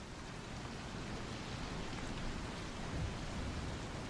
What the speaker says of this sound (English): Right, it's raining now.